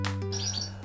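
A single fertile canary male in a breeding room gives a few short, bright chirps, close and moderately loud over a steady low hum.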